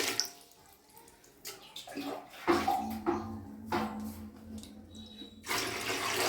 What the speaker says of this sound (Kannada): ಅದೇ ಬೌಲಲ್ಲಿ 4 ಬೌಲ್ ನೀರು ಹಾಕ್ತಾಯಿದ್ದೀನಿ